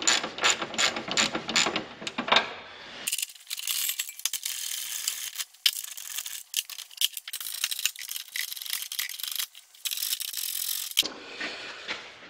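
A ratchet works the radiator bolts on a Jeep TJ, with quick clicking strokes at first, then long stretches of fast, bright ratcheting broken by short pauses, fairly close and without talk.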